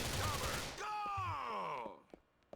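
Sniper rifle fire in the video game GTA IV, a loud blast with dense broadband noise followed by a descending tonal sweep, then a couple of sharp, fainter cracks near the end.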